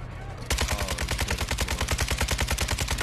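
Automatic gunfire from a gun in a first-person shooter video game, a loud, close, rapid rhythmic burst of about twenty-five evenly spaced shots that starts abruptly after a half-second of quiet.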